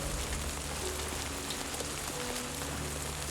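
Heavy rain pours steadily in the video game Death Stranding 2: On The Beach, a dense, continuous hiss of drops across the whole span, with faint low tones beneath and no voices.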